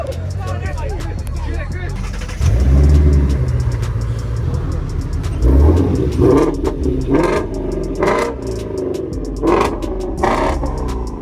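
A 2011 Shelby GT500 engine revs and rumbles nearby, rising in a couple of throttle surges amid people chatting and background crowd noise.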